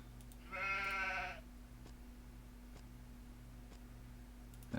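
A single sheep bleats in a video game, a short buzzy cry that stands out over a steady low electronic hum, followed by faint periodic ticks.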